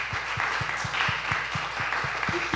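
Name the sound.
applause from audience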